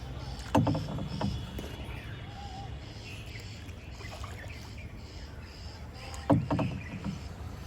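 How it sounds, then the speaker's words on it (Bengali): Oars of a wooden boat on a small lake splash and knock in the water at a slow, steady pace, with a couple of louder strokes over a quiet outdoor background. "ভালো শক্তি লাগে নৌকা চালাইতে"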